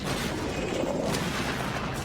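An explosion in a Halo video game trailer, a dense rumbling burst of blasts and booming fire that stays loud and continuous throughout.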